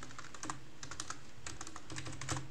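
Keys clatter on a computer keyboard while setting up a home Slackware server, in irregular bursts of quick clicks with short pauses between, close by and moderately loud, no speech.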